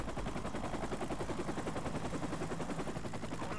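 Sustained automatic gunfire rattles continuously from a Call of Duty: Modern Warfare Remastered match, loud and dense throughout with no speech over it.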